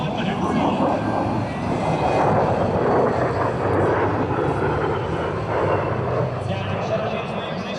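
An A-10 Warthog, a 35,000-pound jet, performs a rapid roll at a naval air station air show, its loud, steady engine roar sustained throughout while an announcer speaks over it.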